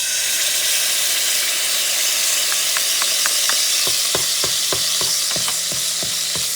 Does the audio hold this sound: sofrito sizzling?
yes